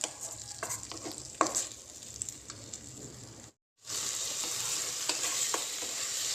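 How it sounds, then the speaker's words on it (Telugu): Tomatoes and okra fry in a pan with a close, steady sizzle punctuated by stirring scrapes; a brief silent gap interrupts, then the hissing returns louder and continues. "టమాటాలు కూడా వేసేస్తున్నాను ఇందులోని."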